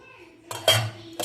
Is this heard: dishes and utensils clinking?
yes